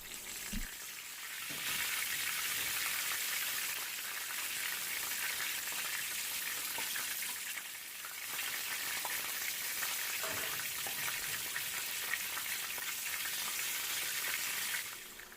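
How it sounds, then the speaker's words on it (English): Homemade egg rolls fry in hot oil with a continuous, close sizzle that barely dips in level and runs throughout with no talking. "the frying of these egg rolls"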